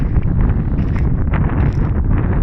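Strong wind buffets the microphone in a sunflower field in loud, continuous low rumbling gusts throughout.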